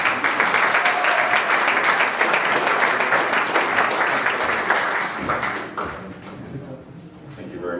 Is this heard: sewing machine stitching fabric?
no